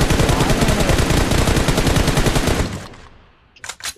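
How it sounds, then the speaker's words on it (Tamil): Rapid automatic gunfire in the mobile battle royale game BGMI, a loud sustained burst of close shots that stops abruptly, followed by a quieter tail and a couple of brief sharp bursts. "ஒரு புல்லட் பட்டுச்சு சர்ச்சில்"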